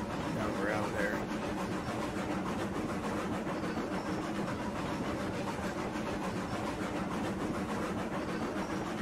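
A locomotive in Railroads Online hauls a long oil-barrel freight train, giving a continuous, fairly loud engine rumble with a faint rhythmic rail clatter throughout.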